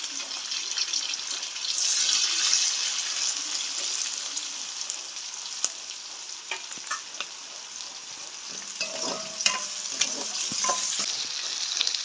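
Dried curry chilies fry in hot oil in a pan for a Jaffna-style chicken curry, giving a steady close sizzle with scattered clinks and scrapes of stirring and no voices.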